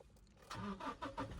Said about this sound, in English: So let's do a little cold start here so you can kind of hear the truck yourself.